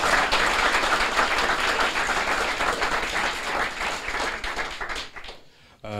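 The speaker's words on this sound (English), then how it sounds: "and a round of applause" A Copenhagen data science meetup audience claps after a Q&A session, loud and sustained at first, then thinning out and fading toward the end.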